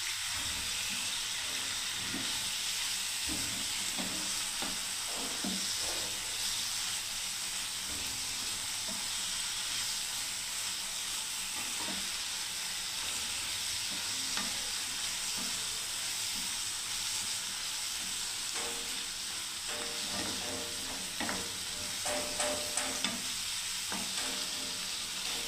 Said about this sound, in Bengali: একটু নেড়ে দিচ্ছি বন্ধুরা দেখুন।